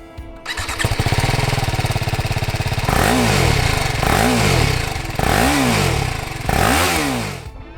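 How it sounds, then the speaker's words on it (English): A 2018 BMW G310GS single-cylinder motorcycle engine starts and idles with a rapid steady putter, then revs up and down four times, loud and close. "This is what the G310GS sounds like."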